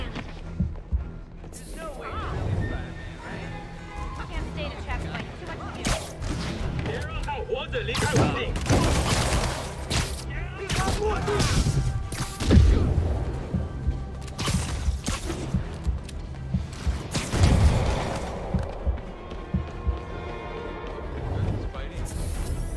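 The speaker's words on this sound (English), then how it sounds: "Rockets!" Rockets launching and bursting in Marvel's Spider-Man, a string of booming impacts and crashes scattered through a busy, chaotic fight, with voices heard talking over the action.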